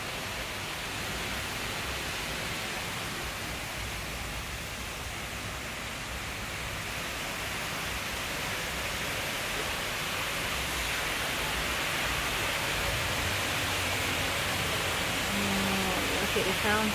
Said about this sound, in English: Look at the sound of the fountain.